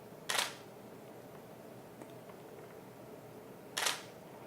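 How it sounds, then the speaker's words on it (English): A Nikon D200 digital SLR fires its shutter twice, each a sharp, loud mechanical thwack about three and a half seconds apart, with quiet room tone in between. "The D200 has a pretty noisy shutter,"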